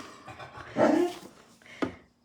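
A young puppy yips and whimpers close by, with a drawn-out whine in the middle and a short sharp bark near the end.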